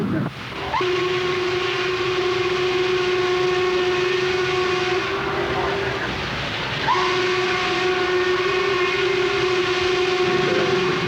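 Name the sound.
steam locomotive whistle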